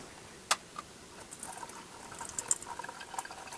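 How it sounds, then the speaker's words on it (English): Liquid draining off cooked chicken into a bowl, a faint, steady watery trickle and splash with a few small drips and clinks, quiet and continuous with no talk. "Drain the chicken."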